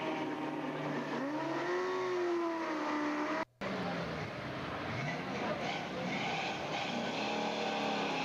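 A 1989 GT drag racing car at a racing event, its engine revving and pulling away at a moderate distance, with the pitch climbing and falling through gear changes over a steady outdoor background.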